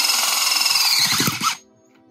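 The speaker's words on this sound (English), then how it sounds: "Mom's gonna use her fancy drill and auger that someone gave her for Christmas." A power drill fitted with an auger bit bores a hole in the ground of a paver pathway, giving a loud, steady whine with gritty digging rumble. It stops abruptly after about a second and a half.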